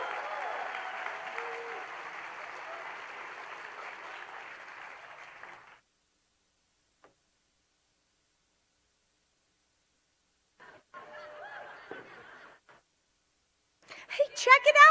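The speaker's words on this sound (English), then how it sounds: "please give her a big, warm round of applause" Audience at the PSD 2025 celebration applauding Joni Baker, president of the PSD Association of Classified Employees, a steady wash of clapping for about six seconds that stops abruptly, followed by silence and brief talk.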